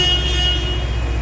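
A truck horn sounded by a radio-control kit installed on the vehicle, giving a steady sustained honk that runs loud and unbroken through the moment over a low engine rumble.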